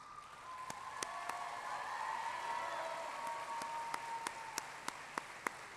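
A high school sports awards crowd applauds the 2022 Courage Award recipient, a soft, distant patter of clapping with a few sharp, louder individual claps standing out near the end.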